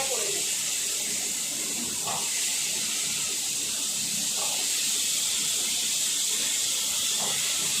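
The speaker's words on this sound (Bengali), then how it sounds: "এবার এই তেলে আলুগুলো ফ্রাই করে নেব।" Potatoes frying in oil for a spicy boal fish dish, a steady hissing sizzle with faint clinks, close and continuous.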